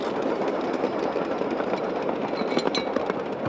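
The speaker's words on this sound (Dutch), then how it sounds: "De twee treintjes zijn nu met hun ronde bezig." Two small amusement park trains run their lap, giving a steady close rumble of wheels and running gear with faint clicks and squeaks, continuous and fairly loud without speech.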